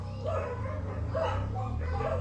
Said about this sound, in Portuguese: Estão ouvindo os cachorros? Se tem uma coisa que me incomoda nessa cidade, é cachorro de rua.